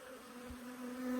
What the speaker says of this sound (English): there's a lot of young bees in this colony anyway